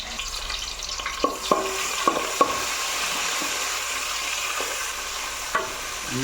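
Spices frying and being stirred in a pan for a Kerala-style botti and tapioca roast: a steady, close sizzling hiss broken by a few sharp spoon clicks against the pan.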